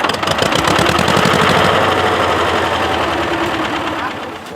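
A tractor engine runs in a village in the taiga of Perm Krai, a loud, rapid knocking chug that stays steady close by and then eases slightly toward the end.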